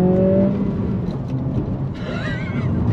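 A 2023 Acura Integra engine accelerates on throttle, heard from inside the cabin as a steady drone that climbs into a rising, wavering whine near the end.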